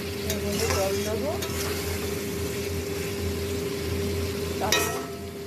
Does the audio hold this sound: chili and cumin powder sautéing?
yes